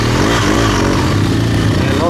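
A BMW R 1200 GS motorcycle being ridden on muddy, wet ground, its engine rumbling steadily and loudly under someone talking throughout.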